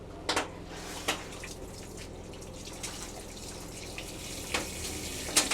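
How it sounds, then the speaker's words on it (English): Water running from a tap at a sink while a puppy is being washed for fleas: a steady, moderate rush with scattered drips and splashes close by, without talk. "Turn on the water for me, Troy."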